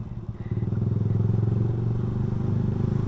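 Honda Revo FI motorcycle fitted with a cheap racing exhaust, a steady deep, throaty engine drone running close and loud throughout with a slight pulsing rumble.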